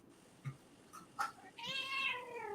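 A house cat gives one clear, drawn-out meow near the end, after a few softer stray sounds in an otherwise quiet room.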